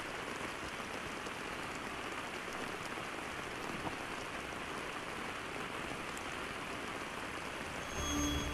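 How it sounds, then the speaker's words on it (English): Rain falls in the jungle survival game Green Hell VR as a dense, steady hiss of drops on surfaces, constant throughout with no talking. "see if we can make our fire, even though it's raining"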